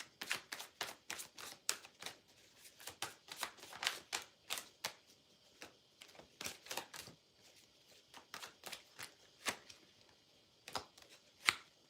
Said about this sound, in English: why are my cards trying to do a backflip when I'm trying to shuffle them?